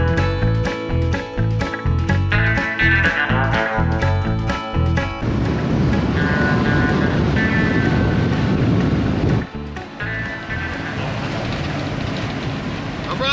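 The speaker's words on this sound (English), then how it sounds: "Box truck's running good minus this diesel leak." A box truck with a diesel leak cruises along the interstate at highway speed, giving a loud, steady road and wind rumble, with rhythmic thumping pulses through the first few seconds.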